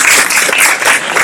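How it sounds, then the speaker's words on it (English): An audience at the Estuary Day 2019 welcoming ceremony claps for Councilman Lloyd Manny Grover. The short patch of applause is loud, dense and close, and it holds steady for just over a second. "Give him a round of applause."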